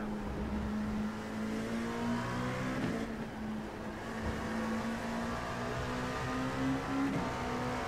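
An LMP2 prototype race car laps Spa in the iRacing simulator, its engine whining steadily with gradual rises in pitch through the gears, heard continuously from the cockpit.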